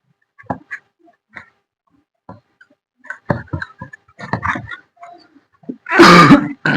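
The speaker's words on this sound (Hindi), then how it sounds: "बाहर में मिर्च को तेल में भूना जा रहा है, इसलिए बहुत ज्यादा खांसी आ रहा है" A person coughs and clears their throat in short, scattered bursts, then a loud harsh cough at the end, set off by chili being fried in oil outside.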